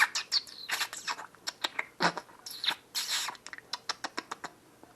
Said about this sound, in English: Cheryl, what do you call your birds?